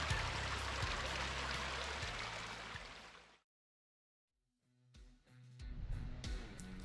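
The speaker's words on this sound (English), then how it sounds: "listen to that beautiful, tranquil sound of the river" The McLeod River in Northern California flowing, a steady rushing wash of water that cuts out briefly to near silence, then returns as clattering, uneven splashing.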